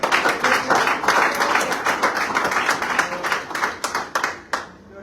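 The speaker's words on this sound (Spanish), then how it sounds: "Denle un aplauso fuerte al Señor" A church congregation claps and applauds loudly for about five seconds, a dense, steady burst of hand claps that thins out near the end, with a little voice mixed in.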